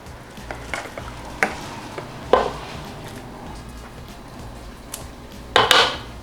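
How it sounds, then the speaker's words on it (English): A spoon stirs ricotta cheese into sauce for baked ziti, giving soft scraping and a few sharper clinks against the dish, moderately close, over a low steady background hum. "And stir it all together."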